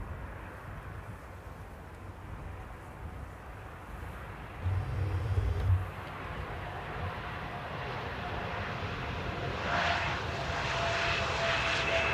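Jet engine rumble of an Aeromexico airliner on approach to Amsterdam airport at sunset, a steady distant roar that swells briefly midway and builds again toward the end, with no talk.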